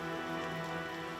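Steady rain falling in Jakarta, a dense, continuous patter filling the short stretch with no voices.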